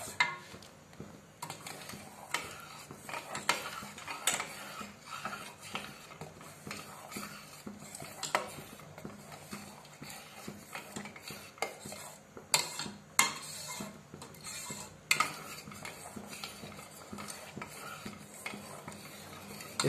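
A metal ladle stirs thickening milk custard in a cooking pot, giving repeated scraping and clinking strokes against the pot in an uneven rhythm, close and fairly quiet with no talk.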